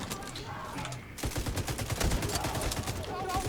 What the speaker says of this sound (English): I heard somebody shooting still.